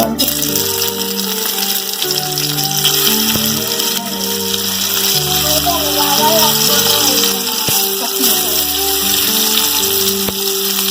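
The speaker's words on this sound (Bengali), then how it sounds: "আমি চিংড়ি ভেজে নেব" Prawns coated in chili, coriander, turmeric and salt fry in a pan, giving a steady, close, even sizzle throughout with background music and no clear talk.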